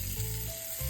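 Polish sausage sizzles and caramelizes in a hot skillet, a steady close crackle of frying fat with no voices over it.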